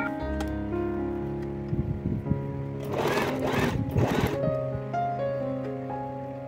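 Sewing machine stitching fabric lining for a crochet wallet, a short burst of steady rapid needle running near and alone, with soft handling noise around it.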